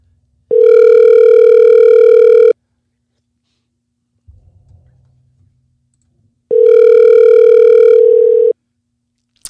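A telephone ringback tone repeats as two long, loud steady tones with a long silent gap between them, plus a faint rustle in the pause, as a call goes unanswered before reaching voicemail.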